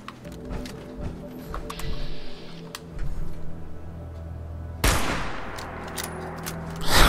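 A hunting rifle fires in the video game Fallout 76, with sharp gunshot cracks in a wasteland fight, one especially loud close shot near the end, over other combat noises and background game sounds.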